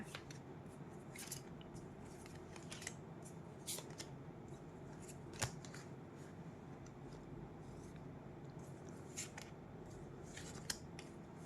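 Tarot cards shuffled and handled in a quiet room during a June love-reading session, giving soft papery riffles and scattered light snaps and taps over a low background hum, with no talking.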